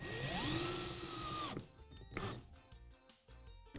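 A power drill whirs and rises in pitch as it drives a screw into a coffee table brace, a sustained close motor whine that cuts off after about a second and a half, followed by quieter clattering.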